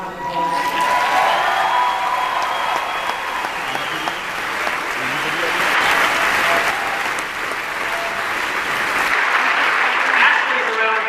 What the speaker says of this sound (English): give our women a round of applause